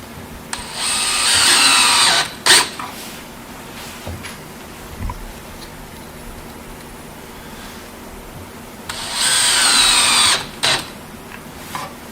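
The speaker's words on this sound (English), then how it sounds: "Square drive face frame screws." A power drill driving square drive face frame screws into a cabinet frame clamped to a bench, with two loud whirring bursts of about two seconds each separated by a quiet gap.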